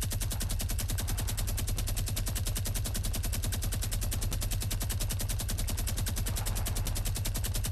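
Rapid automatic gunfire in a video game, a loud, continuous, evenly spaced stream of shots with no pauses.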